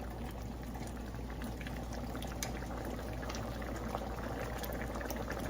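Beef tikka karahi simmers in its own meat juices with garlic, ginger and tomato, giving a faint, steady bubbling and hissing with no talk.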